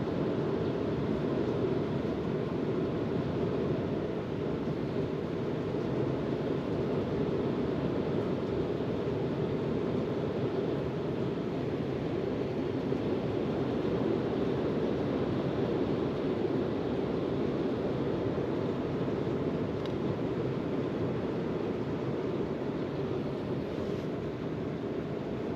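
Heavy rain pours through a New Zealand forest as a dense, unbroken roar that stays even and loud throughout, with no voices.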